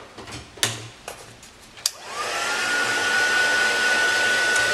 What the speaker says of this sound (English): And then I'm just going to heat up my heat tool.